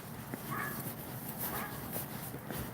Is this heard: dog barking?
yes